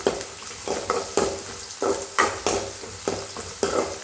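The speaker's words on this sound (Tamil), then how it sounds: "இப்போ பூண்டு போட்ட அப்புறம் வரமிளகாய் போட்டுக்கலாம். போட்டுக்கிட்டு வதக்கும்." Garlic and dried red chillies sauté in a pan for a garlic-pepper gravy, with repeated stirring scrapes over a steady sizzle and sharp bursts of frying every half second or so, close and fairly loud.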